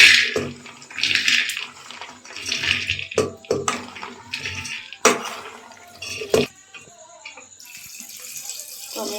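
Water is poured into a pressure cooker pot over dal for boiling. The splashing comes in uneven bursts with a few sharp knocks, then trails off into quieter trickling.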